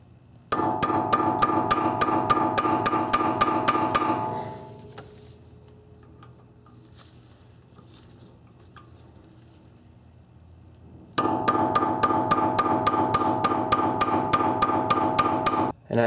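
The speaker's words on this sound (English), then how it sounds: "Tap it with a hammer, and it'll unstake the nut." Hammer tapping a staking tool to unstake the hub nut on a 1990-1997 Honda Accord, two bursts of rapid, evenly spaced sharp metallic strikes, about a dozen each, separated by a quiet pause.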